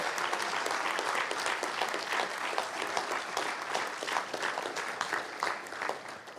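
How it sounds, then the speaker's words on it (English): A church congregation applauds in a steady, dense wash of clapping that holds evenly throughout, fairly close and with no talk over it. "Let's give them a big round of applause."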